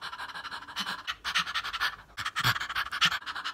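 A person's voice imitates fast, short anxious breaths as a rapid string of quick, breathy panting bursts with brief gaps, heard alone and close.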